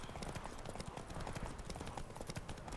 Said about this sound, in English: Come on, Roach. We got this. You're my horse, Roach